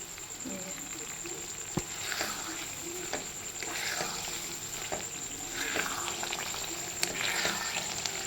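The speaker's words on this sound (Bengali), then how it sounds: "এবার আমি এর মধ্যে একটু ঘি দিয়ে দিলাম, দিয়ে এটাকে ভালো করে আবারও নেড়ে দিচ্ছি" Mango sandesh mixture, thickened and with ghee added, being stirred in a pan: a steady soft sizzle with scattered scraping clicks from the spoon, close and alone without talk.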